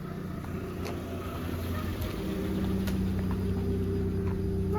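A car approaching on a road, its low engine hum and tyre rumble gradually growing louder and nearer, steady and continuous with no talk.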